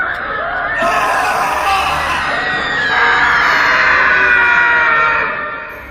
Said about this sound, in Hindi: कमरे में लोगों के दर्द से चीखने की आवाजें